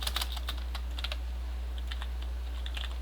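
Computer keyboard typing with repeated spacebar presses, a quick series of light clicks, some clustered and some spaced apart, close and clear with no talk.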